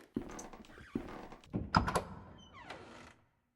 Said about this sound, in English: The door has been open.